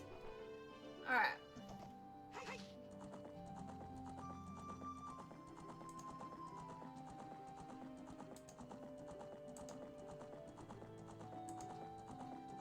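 The horse Epona clip-clops steadily through the video game Zelda Ocarina of Time, hoofbeats running on under game music. A brief whinny comes near the start, and a voice talks over it all.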